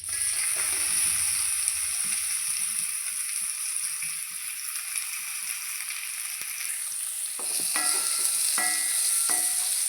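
Chopped onion sizzles in a pan of oil left from frying eggplant for a Kerala-style dish. A continuous hiss sounds up close, with a few sharp stirring clinks near the end.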